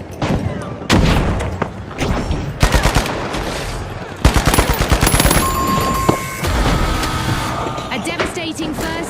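Dense rapid gunfire and explosions in the video game The Finals, including a frag grenade blast, loud and close with overlapping automatic bursts and booms, and a voice speaking over the action.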